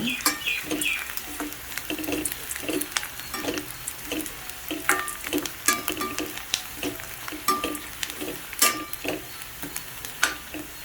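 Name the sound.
onions sautéing in a pan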